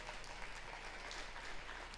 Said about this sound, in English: give a round of applause for the conductor, Mr. Brandon Powell